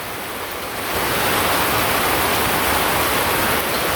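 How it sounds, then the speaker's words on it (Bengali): Heavy monsoon rain, the kind that falls in the month of Bhadra, swells after a moment into a loud, unbroken rushing roar that fills the surroundings, with no voices. "এই যে দেখেন ভাদ্র মাসের কিরকম বৃষ্টি নামছে"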